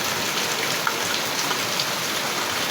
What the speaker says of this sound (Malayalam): നമ്മുടെ ഇവിടെ നല്ല മഴയാണ് കേട്ടോ